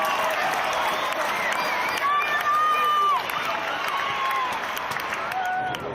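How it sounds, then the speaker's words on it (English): A large crowd at an Australian football match between the Lions and Hawthorn, with steady hubbub and clapping filling the space, as a person talks over the noise. "boy have we got some crowds here today"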